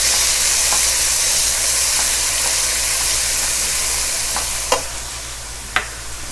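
Garlic and green chutney fry in a pan for chicken pilaf, a steady loud sizzle with a couple of sharp clinks from the spoon near the end and no voices.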